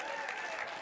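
A brief wash of audience clapping, dense and even, heard from a distance.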